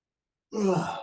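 A person yawns once, a drawn-out breathy exhale that swells in and trails off, close and clear, with no talking.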